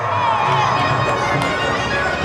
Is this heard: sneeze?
no